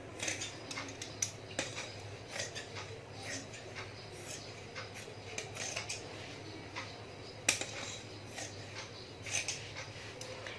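Scissors snipping fabric for a pumpkin-shaped pin cushion, a quiet run of scattered crisp clicks and cuts at close range with no talk.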